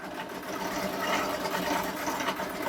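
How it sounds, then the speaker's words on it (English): A sewing machine runs steadily, stitching fabric strips together end to end for a pillow, producing a continuous mid-level mechanical whir with no pauses and no talking. "the next step is to sew the strips together into one big long strip"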